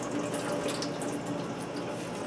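Steady running water pours and splashes into a sink as it drains from rice, a continuous even rush with faint dripping, no voices.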